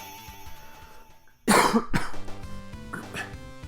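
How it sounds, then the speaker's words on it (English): A cough right into the microphone during a Sonic 2 gaming stream, a loud close burst followed by a second cough, with game music continuing underneath. "Probably kind of gross that I'm just coughing into the mic"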